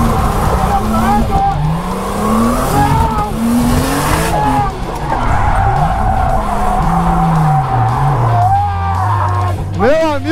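A car drifting on a test run, its tires squealing and skidding in long wavering howls over a loud engine, continuous and close, ending in sharp squeals; people shout and talk throughout.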